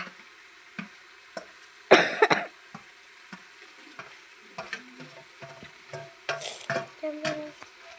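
Roasted eggplant being stirred into sizzling masala in a pan for a farmside oro: soft, steady frying hiss broken by sporadic spoon clinks and scrapes, with a louder burst of stirring near the start and again toward the end.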